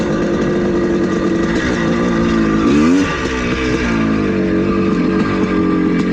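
Engine of a 1982 Suzuki motorcycle lugging at low revs in third gear, a loud, steady, close throaty drone with a brief swell in pitch midway, without pause and with no talk over it.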